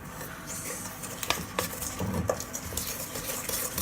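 A whisk or spoon stirs eggs and sugar together in a mixing bowl for bread dough, with a few light clinks against the bowl over a soft steady scraping, close and fairly quiet.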